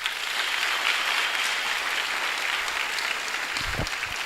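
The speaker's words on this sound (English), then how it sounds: "Can you clap hands for me?" An audience in Jack Botus Hall, Polokwane, applauds at a student recruitment road show: a dense, steady wash of many hands clapping close by, with a few heavier thumps near the end.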